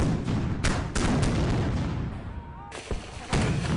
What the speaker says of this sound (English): At this distance, cannon can be fired with accuracy into the city.